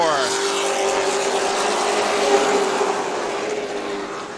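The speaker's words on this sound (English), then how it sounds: "Look at this swarm of trucks." Racing trucks roar around Tucson Speedway in a dense pack, a steady loud engine drone with pitch shifting as the field passes, continuous throughout.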